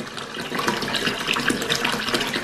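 Water runs from a tap into a bathtub as it fills, a steady close rushing and splashing that goes on throughout without any voices.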